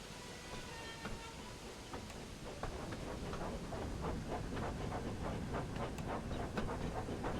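A Thomas & Friends toy or ride train running steadily, a continuous rumble with repeated clickety-clack beats along the track, fairly loud and with no talk.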